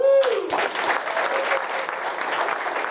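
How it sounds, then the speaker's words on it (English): An audience at a leadership summit breaks into a round of applause for first-time attendees, a loud, dense clapping that swells quickly after a brief voice and carries on steadily. "I want everybody to give these guys a round of applause"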